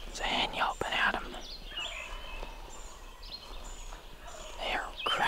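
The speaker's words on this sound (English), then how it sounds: "It's a hen yelping at them." A wild turkey hen yelps in short raspy bursts, with gobbling and other turkey calls nearby outdoors in West Virginia woods, moderately loud against quiet background, with no talk.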